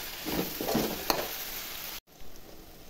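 Tomatoes and onion greens fry with a steady sizzle in a pan while being stirred, with soft scraping strokes, a single sharp clink, and a brief cut before the quieter frying continues.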